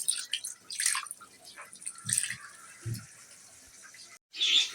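A little water goes into a pot of spiced beef being mixed for cooking, with short drips and splashes in uneven bursts and a few soft knocks against the pot.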